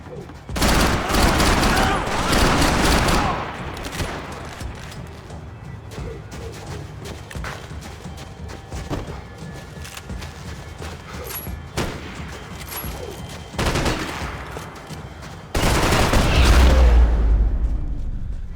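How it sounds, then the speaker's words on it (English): Video game gunfire from Max Payne 3 in Hoboken: loud bursts of shots and booms cluster at the start, sporadic pops follow through the middle, and a heavy barrage returns near the end, with some voices heard. "Gunfire over Hoboken."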